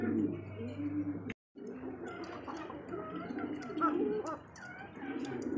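Koka pigeon cooing at a farm, soft repeated throaty coos in a quiet setting, with a brief dropout partway through and faint bird chatter around.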